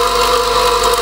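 A 1950s GMF 8-inch heavy duty bench grinder running after a repair, a loud, steady motor hum and whine with no variation across the short stretch.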